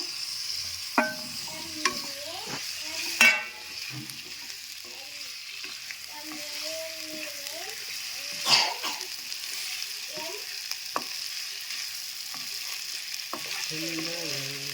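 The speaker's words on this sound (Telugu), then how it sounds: "ఇప్పుడు మనం ఆల్రెడీ కలిపెట్టుకున్న చికెన్ వేస్తున్నాను" Marinated chicken tipped into a pan of softened frying onions for a chicken pulusu, giving a steady close sizzle with scattered stirring scrapes and a few sharp clatters, no talking.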